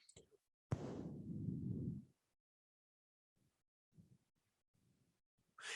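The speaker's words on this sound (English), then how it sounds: "now you're going to open the lips and exhale through a tiny pinhole" A single slow exhale pushed through pursed lips, as if through a tiny pinhole, makes a close, breathy hiss lasting just over a second, followed by faint scattered breath and mouth noises in near silence.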